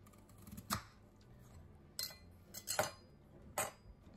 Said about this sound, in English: I'm going to cut the onion in half and put it on the mandolin and get it as thin and thinly sliced as possible